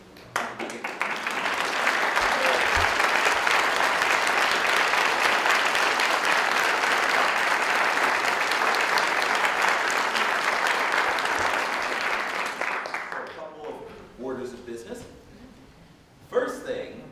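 Sustained applause from a concert audience after a choral society performance, a dense roar of clapping that swells, holds for about twelve seconds and then tapers into scattered claps and a voice speaking.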